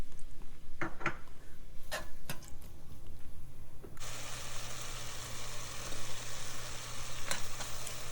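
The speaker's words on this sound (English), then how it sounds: "Then I add some chopped onions and shallots and let it cook until it softens." Chopped onions, shallots and garlic hit a hot pan, starting with a few clicks and taps before a loud, steady sizzle takes over for the second half.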